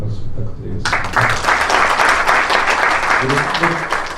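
Audience applause at an academic seminar starts abruptly after a moment of speech, then continues as steady, fairly close clapping while a voice speaks faintly underneath.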